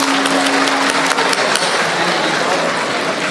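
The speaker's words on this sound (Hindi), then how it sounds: "और जितने भी म्यूजिशियंस इनके साथ हैं उनके लिए भी एक जोरदार ताली।" A festival audience gives steady, loud applause for the accompanying musicians, a continuous wash of many hands clapping together with a faint sustained tone underneath.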